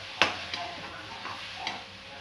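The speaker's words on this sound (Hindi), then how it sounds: "जो धनिया और धनिया का पत्ती और लहसुन मिर्ची पीस के रखे थे हम इसको डाल देंगे" Ground coriander, garlic and green chilli paste being added to a pan of cooking peas, a few scraping stirs and light clinks of a spoon over a faint background sizzle.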